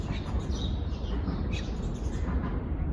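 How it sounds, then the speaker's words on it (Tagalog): Faint bird chirps over a steady low rumble of outdoor background noise at a fishing spot. "May huni ng ibon."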